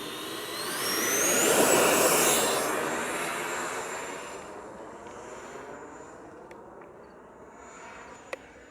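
Horizon Hobby F-18 80mm electric ducted-fan jet in Blue Angels livery, swelling to a loud high-pitched whine as it takes off, then fading steadily as it climbs away.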